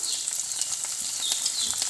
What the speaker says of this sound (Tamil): இப்போ வெங்காயம், பச்சை மிளகாய், இஞ்சி எல்லாத்தையும் சேர்த்து வதக்கிக்கலாம்.